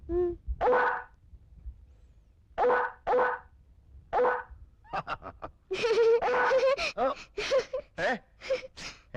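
A voice imitates a dog, giving a series of short, sharp barks in bursts, some spaced out and then a quicker run of yaps.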